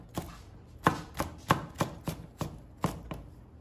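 Garlic being chopped finely with a knife on a cutting board, about ten crisp, evenly spaced cuts sounding close and clear with no talk, as part of a mung bean sprout spring roll recipe.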